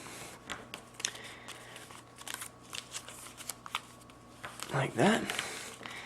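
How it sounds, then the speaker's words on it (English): Paper being creased and folded into the wings of an F-18 Hornet paper airplane gives close, soft crinkles and rustles, with a person briefly speaking near the end. "and now we're going to fold up our main wings."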